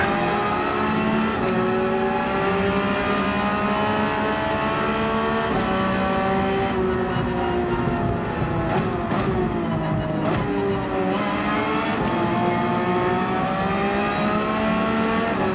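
A Porsche 911 GT3 race car engine in GT7 at Mount Panorama, loud and continuous, revving up and down through gear changes. The pitch climbs and drops repeatedly with faint tire noise underneath.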